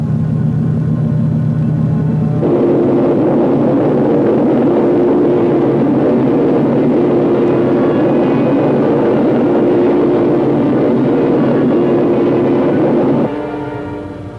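Spaceship engines in a 1960 science-fiction film roar as a loud, steady, droning rumble, holding for about ten seconds before shifting down and fading.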